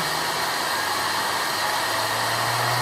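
A small two-stage bladeless turbo fed by a quarter-inch air input blows a constant hissing, whooshing rush of air, close and steady like a hair dryer, with a faint low hum underneath.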